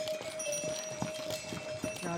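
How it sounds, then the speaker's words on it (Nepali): A horse clip-clops along a mountain trek trail on the way to Gosaikunda, with a few faint irregular hoof knocks amid a steady outdoor hum and people talking nearby. "घोडा हो नि"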